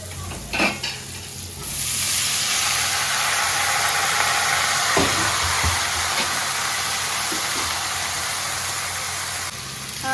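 Leafy greens drop into hot oil already fried with garlic, dry chili and onion. A few utensil clinks come first, then a loud, steady sizzle takes over and hisses on without a pause, punctuated by occasional stirring scrapes.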